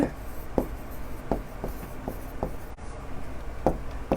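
Chalk or marker taps and strokes on a board in a physics lesson, a string of short sharp scratches at uneven intervals, close and clear over a quiet room.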